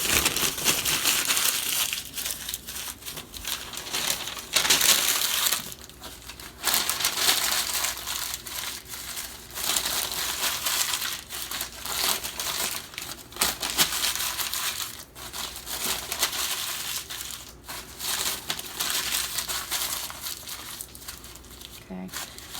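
Paper is crumpled and crushed by hand to soften its fibers for sculpting a small bust armature, a close, busy crackling and crinkling that comes in repeated bursts with brief pauses over the whole stretch.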